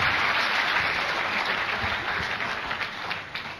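Audience applause fills a presentation hall with dense, steady clapping that stays loud and continuous throughout, with no talking over it.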